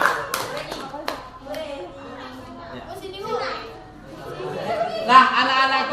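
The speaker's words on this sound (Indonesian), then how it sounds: "Oke, tepuk tangan untuk Moza." Indonesian schoolchildren in a classroom clapping together in a sustained round of applause, mixed with lively child chatter and an adult voice, close and fairly loud throughout.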